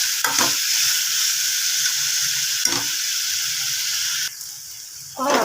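Jackfruit pieces sautéed in a hot pan with fried cashews and raisins give a loud, continuous sizzle, broken by a few sharp spatula scrapes and a brief quieter dip near the end.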